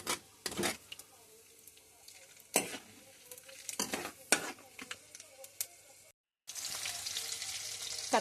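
Urad dal, chana dal and mustard seeds frying in oil in a pan, a quiet sizzle broken by repeated stirring scrapes at an uneven pace.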